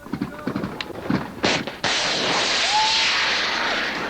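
A Javelin missile launched at a tall building in the Iraq War, a couple of sharp cracks and thumps amid scattered clatter, then a loud sustained roaring whoosh of the launch, heard close.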